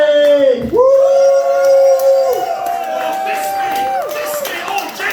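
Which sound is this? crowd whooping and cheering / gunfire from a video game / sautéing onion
crowd whooping and cheering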